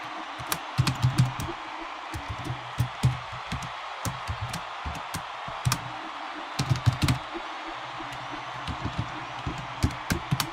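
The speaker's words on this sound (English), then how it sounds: "I'm good at typing, guys." Typing on a computer keyboard during a sports stream broadcast, with bursts of quick clattering keystrokes, some runs dense and others sparse, close and fairly loud against a faint steady background hum.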